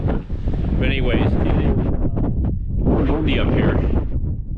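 Strong wind on a mountain ridge along the Pacific Crest Trail roars and buffets the microphone in continuous gusts, with faint voice-like sounds mixed into the rushing noise.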